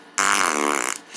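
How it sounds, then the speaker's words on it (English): A cartoonish fart sound effect dropped into a home movie edit: one loud, buzzy blast lasting about a second, standing alone with no talk. "oh, too late, you're gonna add some fart jokes"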